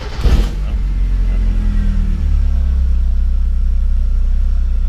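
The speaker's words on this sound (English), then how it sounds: "The car is now on." A Mazda Miata engine idles steadily after starting, a low, even rumble with a brief burst of louder noise at the start.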